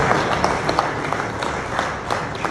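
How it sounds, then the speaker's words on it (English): Conference audience applauding, a steady wash of many hands clapping at an even level for a short burst, with no speech over it. "we need to give LASHMA a round of applause."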